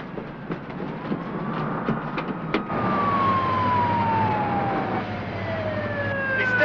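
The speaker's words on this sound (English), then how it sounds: "With a police siren built in?" A police siren built into a cartoon electronic dog wails loudly with a long, steadily falling tone, accompanied by rumbling motion noise, and it carries on continuously throughout.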